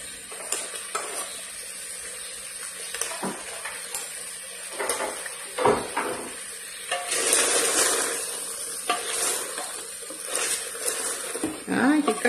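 Onion hits beef chuck frying in a pot, bringing a loud, close sizzle with stirring scrapes and utensil knocks that rise and fall, while a voice talks over it at times.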